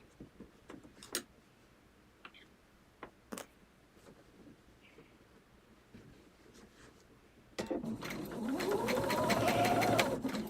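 Sewing machine stitching binding onto a table runner: scattered soft taps and handling clicks first, then the motor starts and runs a steady fast stitching whir that rises in pitch and loudness for a few seconds, close by.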